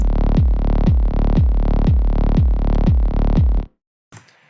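An EDM bass line ducks under sidechain compression set to a short release. It pumps in a steady rhythm, dipping at each of eight kick-like hits and swelling back quickly, loud and continuous before cutting off abruptly.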